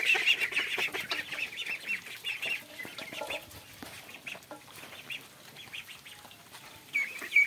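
Farm ducks gather by a water pit with water hyacinth after a rice harvest, quacking and chattering continuously at moderate distance.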